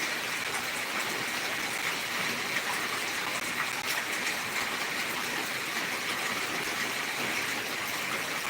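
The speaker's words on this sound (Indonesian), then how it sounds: "Limboto diguyur hujan deras." Heavy rain falling in Limboto during Ramadan, a steady dense hiss of downpour that continues without a break at an even, fairly loud level.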